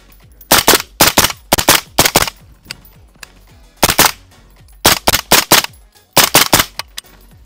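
A suppressed PSA JAKL rifle fires loud close shots in quick bursts of two to four rounds with short pauses between groups, alone without talk.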